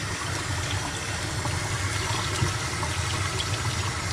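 Warm water runs steadily over a banded tie-dye shirt being rinsed indoors, a continuous close splashing flow with no voices.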